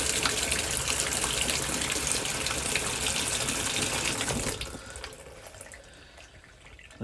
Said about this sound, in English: So just run a bit of water in there.